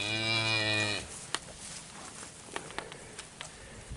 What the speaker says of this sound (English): Just letting the cows get in here